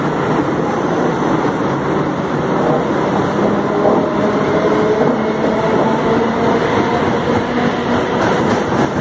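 A Mumbai slow local train arriving at a platform, a loud, continuous rumble of wheels and carriages with faint rail clatter, unbroken throughout.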